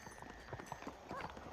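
Horse hooves clip-clop in the Red Dead Redemption video game, a quick, faint series of hoofbeats at a walking pace, heard in the distance.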